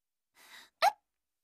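A soft breathy intake followed by one sharp, close hiccup in a quiet room.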